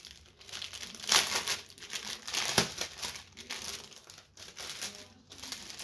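Close crinkling and rustling of plastic wrap in repeated bursts as Temu packaging is pulled and torn open.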